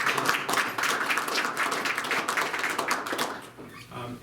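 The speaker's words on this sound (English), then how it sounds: "you guys should give yourself a round of applause here too" Audience applause for board members at a USDA rural broadband announcement in North Dakota, a dense round of clapping from a modest crowd that thins and fades toward the end.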